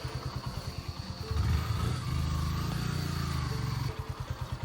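A motorcycle on a slippery mountain road on the way to Tarebhir putters nearby at a steady idle, then revs up for a couple of seconds before settling back to its rhythmic idle.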